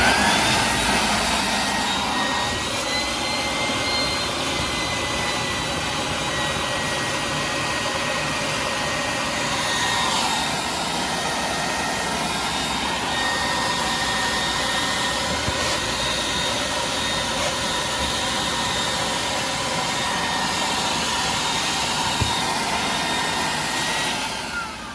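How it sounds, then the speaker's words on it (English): Shop vacuum cleaning out the drain pan of a keg cooler, a loud steady roaring whine running continuously and close, with slight shifts in pitch as the nozzle moves. "I was shop vacuuming out the drain pan."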